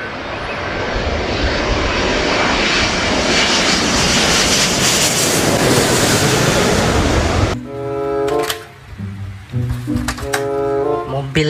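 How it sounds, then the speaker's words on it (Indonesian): An airplane roars loudly overhead for about seven seconds, a broad steady engine drone that swells and then cuts away to a short bouncy melody. "Pesawat terbang."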